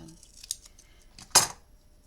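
Scissors cut foam tape for a memory book craft project, with a light snip followed by one sharper, louder close cut in a quiet room.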